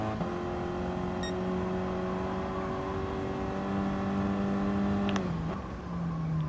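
A Ford Focus ST engine in Gran Turismo Sport, on a reverse time-trial run at Dragon Trail, holds a steady, tonal drone, then the pitch drops sharply about five seconds in before settling lower.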